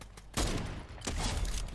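Sniper rifle shots in the Fortnite video game ring out as two sharp, loud blasts less than a second apart, each followed by a short rumbling tail.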